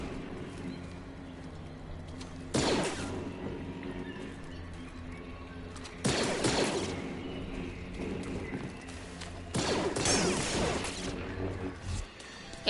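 Blaster fire in Star Wars Jedi: Fallen Order comes as three loud, harsh bursts spaced a few seconds apart over a steady in-game background hum.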